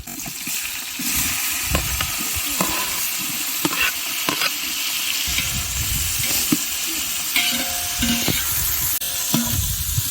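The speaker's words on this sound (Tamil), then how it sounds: "நல்லா கிளறி ஊற்றலாம் வெங்காயம் பச்சை மிளகா நல்லா வதங்கிருச்சு இப்போ தக்காளி சேர்த்துக்கலாம்" Onions, green chillies and tomatoes sauté for biryani, a moderate sizzle broken by repeated sharp clinks and scrapes of a spoon stirring the pan.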